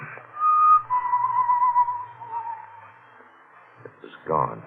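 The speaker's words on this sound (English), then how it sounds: "The whistling was somewhere in the building." Someone whistles in a building at 4:30 in the morning in a radio drama. The tune is thin and distant, a sustained wavering note that drifts and fades, followed by a brief muffled sound at the end.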